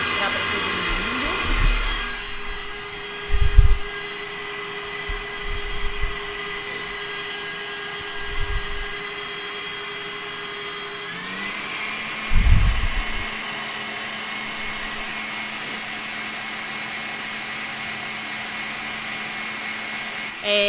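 An electric stand mixer beating eggs, milk and coffee hums with a steady high whine and faint rhythmic whir, switched to a slightly different speed partway, while someone talks and a few thumps sound nearby.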